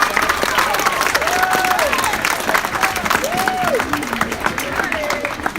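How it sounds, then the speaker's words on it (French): Outdoor crowd at a village patron-saint festival in Péone applauds steadily, a dense wash of clapping that runs throughout, with voices and scattered shouts mixed in over it. "Sans hésiter, vous pouvez l'applaudir."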